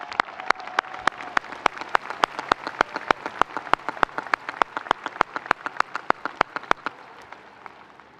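Applause at a university commencement ceremony, a large outdoor crowd clapping steadily for a speaker, with a close, loud, evenly paced clap from one person cutting through the broad wash of the crowd.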